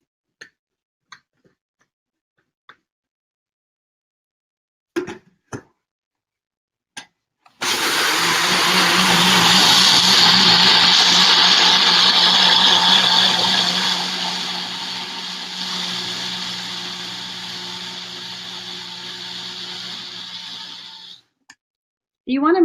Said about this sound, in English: You want to make sure to do it long enough so that it comes out really smooth, that all the seeds are blended.